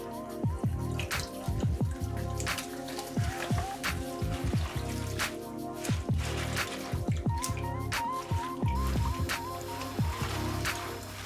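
Fresh spinach being washed under water, with irregular drips, splashes and wet squishing of leaves close by, repeated throughout and without talk.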